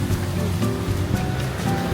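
Rain falls on a city street in the rainy season, a dense, steady hiss and patter of drops spread evenly through the short stretch with no voices.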